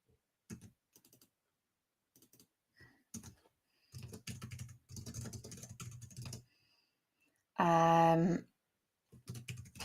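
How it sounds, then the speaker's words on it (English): Close computer keyboard typing in short irregular bursts of clattering keystrokes with pauses between, briefly interrupted by a loud tonal sound before the tapping resumes. "this is just my keyboard"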